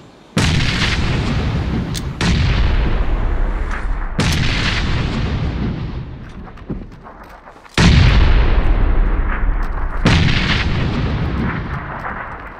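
Heavy booming blasts from a PUBG battle, a grenade explosion among them, strike in a series of about five loud, close detonations, each followed by a long rumbling decay, with no voices.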